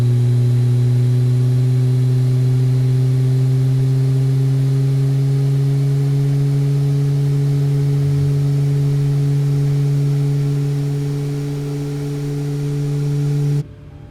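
A simulated LEAP turbofan engine on a Boeing 737 MAX 8 spools up during start in a flight simulator game, giving a loud, steady rising whine with strong tonal hum that holds for about fourteen seconds, then cuts off abruptly.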